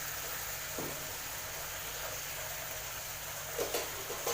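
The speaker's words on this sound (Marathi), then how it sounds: "ह्याच्या पाकामध्ये आता आपण थोडीशी विलायची टाकूया विलायची परतून घेऊ" Cardamom sautéing in sugar syrup made from milk and sugar for carrot halwa, a soft steady sizzle with faint stirring clicks and a few light scrapes near the end.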